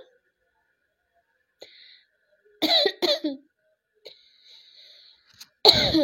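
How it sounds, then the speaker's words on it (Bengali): A person coughing nearby: a couple of harsh, loud cough bursts in quick succession, then another strong cough at the end, separated by quiet gaps with faint breathy sounds. "কাশি হয়েছে"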